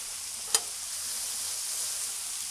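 Veggies and garlic sizzle steadily on a Blackstone griddle for a pepper steak dish, a single sharp scrape of a utensil ringing out early as they're stirred, with no talking.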